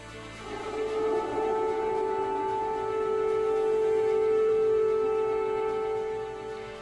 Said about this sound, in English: Sirens warning civilians in Kyiv as airstrikes approached overnight.